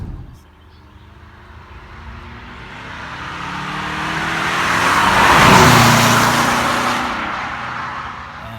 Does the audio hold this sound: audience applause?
no